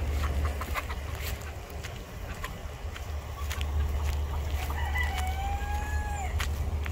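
Free-range chickens cluck and a rooster crows nearby, with scattered sharp clicks and a low steady hum underneath.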